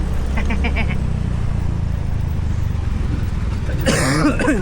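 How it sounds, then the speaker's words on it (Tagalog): A single harsh cough bursts out near the end over a steady rumble of a Yamaha Fazzio scooter's engine and road noise, with a few faint clicks earlier. "Ubo na naman tayo, Diyos mio."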